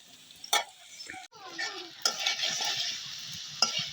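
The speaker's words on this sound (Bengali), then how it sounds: "মশলা কষাচ্ছি" Spices sautéing in a pan with potatoes and meat sizzle steadily while a spoon scrapes and clinks against the pan in a few sharp knocks, close and busy, without speech.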